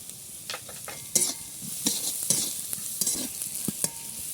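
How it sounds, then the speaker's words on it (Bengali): Chopped carrot and capsicum fry with turmeric, salt and chilli in a pan, a light sizzle broken by sharp, irregular scrapes and knocks of a spatula stirring, close and moderately quiet. "গাজর ক্যাপসিকাম ভালো করে ভাজা হয়ে গেছে"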